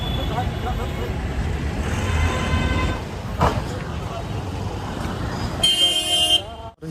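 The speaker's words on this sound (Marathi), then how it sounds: "मुंबईचं ट्रॅफिक आणि मुंबईची पब्लिक भयानक गर्दी" Busy Mumbai street traffic with a steady rumble of passing vehicles and a couple of car horn toots, the last one long and loud, with voices talking over the noise.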